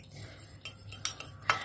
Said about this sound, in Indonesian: Aduk rata dan kita campurkan ke telurnya tadi.